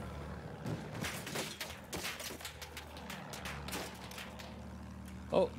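Gunfire in the video game Battlefield 1 during a bomber attack: scattered bursts of shots and impacts crackle through a dense battle din, with a brief loud pop near the end, under low chatter.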